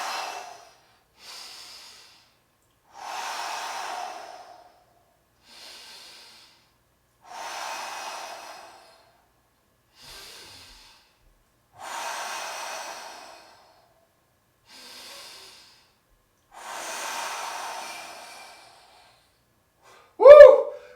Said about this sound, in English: I'm doing 5 breaths and go.